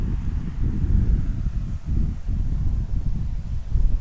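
Outdoor wind gusts buffet the microphone in a continuous low rumble that swells and dips, with faint rustling mixed in and no one speaking.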